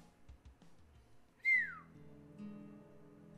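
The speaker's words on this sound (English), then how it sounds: "I heard a low whistle" A single short low whistle, a quick falling tone that stands alone over a faint, quiet background.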